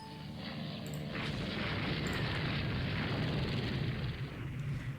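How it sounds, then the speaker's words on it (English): Torpedoes fire and explode in the naval strategy game Rule the Waves 2, a muffled rumbling boom swelling into a sustained, noisy roar with a couple of sharp high crackles, moderately quiet and without speech. "we'll fire off a couple of torpedoes here"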